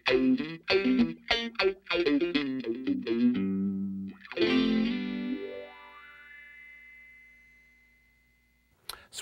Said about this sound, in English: The filter's going down instead of up, so it's inverted. We've switched to a high pass filter.